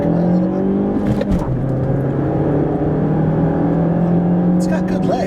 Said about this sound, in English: We're gonna do a really quick 0 to 60, just to give you a general idea.